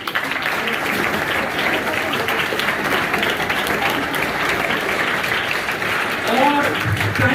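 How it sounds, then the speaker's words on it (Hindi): Loud, sustained applause from a crowd at a school Math Day celebration, many hands clapping densely and continuously throughout, with a voice briefly audible near the end. "जोरदार तालियां।"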